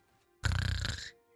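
A voice imitates a sleeper's airy, breathy noise: one loud, rough exhaled rasp close to the mic, about two-thirds of a second long, after a quiet start.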